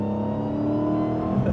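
A Dodge Demon 170 accelerating onto a highway, its engine holding a steady, harmonic-rich drone from inside the cabin that climbs slightly in pitch toward the end, with no talking.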